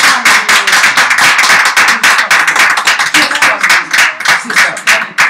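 A church congregation claps loudly and fast during a worship service, a dense run of sharp handclaps that fills the space with voices mixed in.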